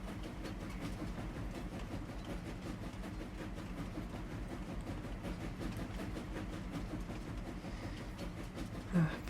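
Train ride in Farming Simulator 25 on a Highlands map, a steady low rumble of the rolling train with rhythmic clacking pulses, continuous and moderately quiet, ending in a short louder thump.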